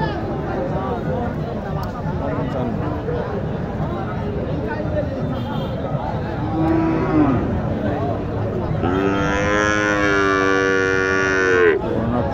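Sahiwal heifers and other cattle mooing at a busy livestock market in Naogaon, with several long, loud, close moos over constant crowd chatter.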